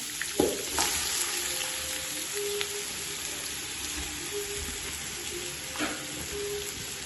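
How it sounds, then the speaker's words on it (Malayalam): Sliced onions fry in ghee with a soft, steady sizzle, fairly quiet and close, broken by a few light clinks of a utensil against the pan. "ചോറിൽ ഇടയിലായിട്ട് ഉള്ളി ലെയറായിട്ട് ഇട്ട് കൊടുക്കാൻ ഒന്ന് ഫ്രൈ ചെയ്തിട്ട് എടുക്കാം"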